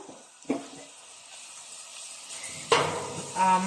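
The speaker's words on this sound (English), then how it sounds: "So we leave the onions to get brown." Onions browning in a pan for a tomato chutney, a soft steady sizzle with a few louder clinks and stirring bursts, no talking.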